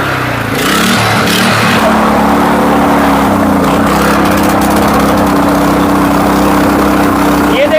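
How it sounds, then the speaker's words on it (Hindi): An 8 HP power tiller engine runs while submerged in water, a loud, steady, close chugging drone with a rough rhythmic putter that holds without stopping, with faint splashing and background chatter. "पूरी मशीन को पानी के अंदर डुबो दिया, फिर भी बंद नहीं हो रहा इंजन"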